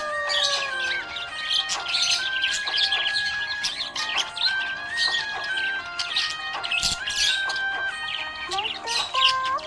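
Happy pet budgies chirp and warble continuously, a busy stream of high tweets and trills close to the microphone, with steady background chatter throughout.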